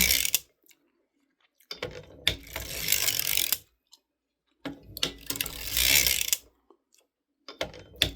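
A hand-cranked sock knitting machine runs in two loud clattering bursts of mechanical ratcheting, each lasting over a second. Brief clicks fall in between, and the bursts stop in near silence.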